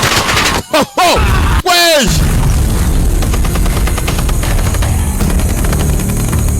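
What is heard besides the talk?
gunfire in an action movie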